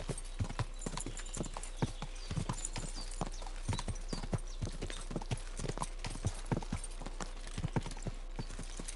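Horse hooves clip-clopping in Kingdom Come Deliverance 2, a steady rhythmic trot of sharp, close hoofbeats over a constant low rumble, with occasional faint talk in the background.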